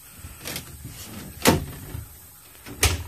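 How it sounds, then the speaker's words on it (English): A light aluminum tiny house's screen door swings open and bangs shut, three soft knocks spaced over a few seconds against quiet outdoor background. "Has a screen door."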